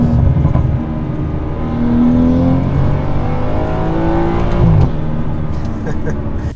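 BMW F30 engine revving up and holding high, a loud, steady drone with rising and falling pitch sweeps, heard from inside the car, with a voice talking faintly under it.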